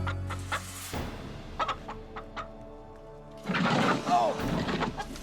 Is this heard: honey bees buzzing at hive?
no